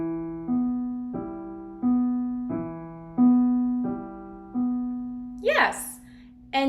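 Piano playing the opening phrase of a piece, slow repeated notes and chords in a gentle, even rhythm, close and clear, ending with a brief rustle.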